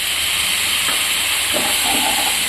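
Water poured into a spice paste frying in a pan, for a thin fish and vegetable curry, gives a steady loud sizzle and hiss that runs throughout without a break.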